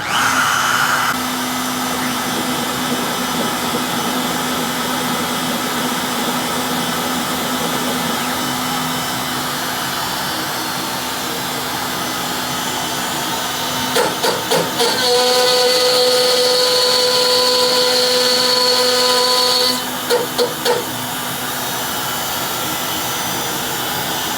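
Onefinity CNC machine with a 4th axis running a job: a steady spindle whine and motor hum throughout, joined midway by brief clicks and a high stepper-motor tone for several seconds before returning to the plain hum.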